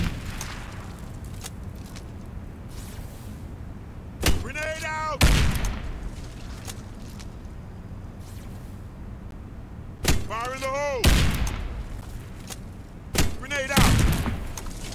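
Warface shooter game combat: explosive blasts and bursts of gunfire hit in loud clusters around 4–6, 10–12 and 13–15 seconds, separated by quieter stretches, with game voice callouts shouted over the bursts.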